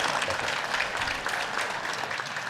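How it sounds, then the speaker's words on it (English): Audience applause at an agricultural innovation challenge stage event, a steady wash of clapping from a crowd that carries on through the whole stretch without pause. "Let's give them another great round of applause."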